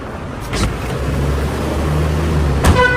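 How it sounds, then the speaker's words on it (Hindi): Car pulling up to collect passengers, its engine a steady close rumble that gives a low hum, a brief door or window thump near the end, and no talking. "हरम से गाड़ी आ रही है।"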